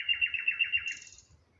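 A bulbul calls nearby with a quick run of bright, rhythmic chirping notes, then a higher trill that fades out, alone and clear.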